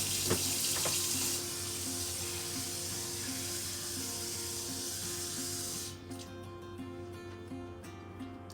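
A steady stream of water pours and splashes close by into a blender of mango, carrot and ginger for several seconds, then cuts off. A faint hum continues underneath.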